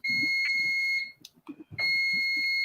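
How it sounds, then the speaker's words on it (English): An electronic alarm sounds a loud, steady high-pitched tone that cuts out briefly and then resumes, with muffled knocking and movement during the pause. "no, that was my alarm."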